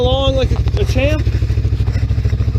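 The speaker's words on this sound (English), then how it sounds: "It's sitting there idling along like a champ." A 1997 vehicle's engine with a newly replaced carburetor idles steadily in a low, even pulsing rhythm, close and loud, while someone talks over it at the start.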